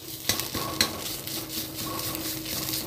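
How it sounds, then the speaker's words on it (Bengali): Mashed cauliflower leaves fry in oil in a wok with a steady low sizzle, punctuated by two sharp clinks of a spatula early on and scraping stirs, no talking. "কপি পাতা বাটাটা ভাজা হয়ে গেছে ভালোভাবেই"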